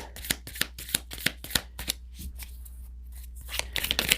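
Tarot cards being shuffled and drawn for a reading, a series of sharp riffling snaps about every third of a second, then a quieter stretch and a denser flurry of card flicks at the end, close up with no talking.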